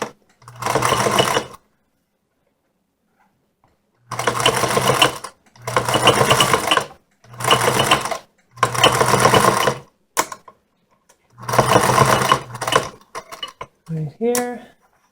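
A sewing machine stitches fabric in several loud, rattling bursts of one to two seconds each, separated by short silent pauses, with a brief mechanical click and a faint vocal sound near the end.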